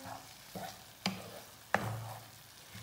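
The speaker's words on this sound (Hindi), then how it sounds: "अब मैं इसमें मैकरोनीस शामिल कर दूँगी। इसको अच्छी तरह मिक्स करना है" Macaroni tossed with vegetables and spices in a pan, a soft scraping stir with a few sharp spoon-on-pan clanks spaced about a second apart over a faint sizzle.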